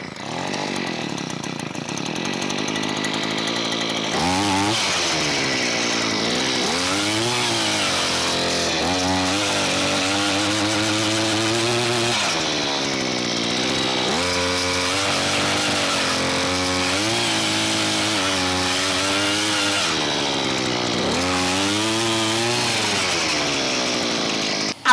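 A gas-powered auger engine revs and labors while boring a planting hole in rocky soil for a boxwood hedge, a loud continuous motor drone rising and falling in pitch with repeated surges as the bit bites and grinds.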